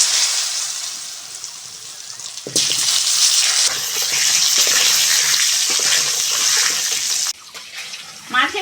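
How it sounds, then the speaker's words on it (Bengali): Potatoes fry in hot oil left from frying fish, giving a loud, dense sizzle that jumps in intensity as they are stirred or added, with brief quieter gaps. "এবার ওই তেলের মধ্যে আলুগুলোও ভেজে নেব।"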